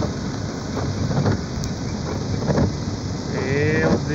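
A hailstorm with rain and thunder in Ouro, Brazil, makes a loud, dense, continuous wash of pelting noise with scattered sharper impacts and wind buffeting on the microphone, and no clear speech.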